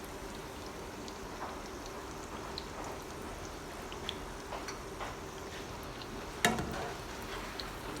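Poori paratha frying in hot oil, a low continuous bubbling sizzle with faint crackles and one sharp clack of a utensil near the end, no voices.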